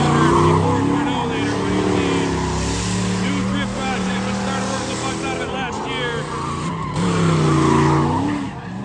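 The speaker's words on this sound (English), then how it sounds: "My God, that Hemi is loud." A loud Hemi-engined car drifts with a sustained, wavering engine roar and screeching, skidding tires, rising and falling close by, with people talking underneath.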